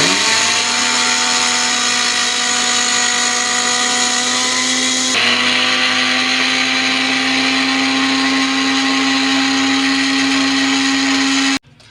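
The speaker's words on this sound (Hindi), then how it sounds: "चलिए ब्लेंडर लगाने लगे हैं।" An electric blender grinds dried milk into milk powder with a loud, high, steady motor whine close to the microphone. The pitch steps up partway through, and the motor stops abruptly at the end.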